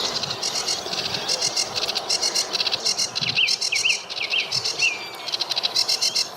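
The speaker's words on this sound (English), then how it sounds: "That's sedge warbler" A sedge warbler sings from reeds in rapid chattering phrases mixed with scratchy notes and a few clear whistles, fairly close over a steady insect-like background hiss.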